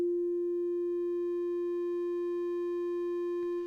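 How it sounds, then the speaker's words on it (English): A synthesizer sine wave played from a MIDI keyboard holds one smooth, pure, steady note, loud and alone, with a few soft clicks near the end. "So this is the sine wave. It's very smooth sounding"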